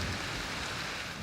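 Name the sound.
rain falling in the mountains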